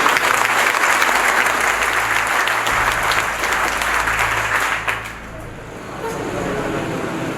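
Audience at an event honouring a retired major general breaks into dense, steady applause that holds strong for several seconds, then drops off abruptly and settles into a softer, scattered clapping with low rumble beneath.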